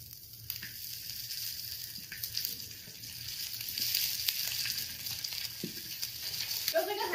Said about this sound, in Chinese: 而且还可以煎来吃，煎来吃更香